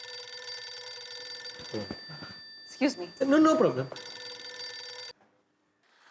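A telephone rings steadily in an indoor scene from a Hindi TV comedy, its bright repeating tone running under brief talk before cutting off near the end.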